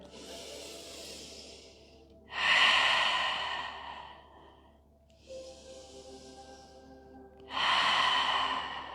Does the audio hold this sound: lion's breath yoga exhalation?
yes